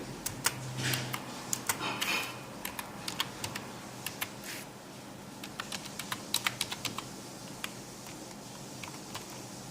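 Someone types a password on a computer keyboard, a steady run of close, crisp key clicks with brief pauses, with no voices.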